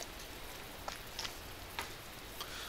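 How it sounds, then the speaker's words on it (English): Steady rain in The Fruit of Grisaia visual novel, a soft continuous patter with a few sharper drip-like ticks, quiet and alone with no voices. "The rain shows no sign of letting up."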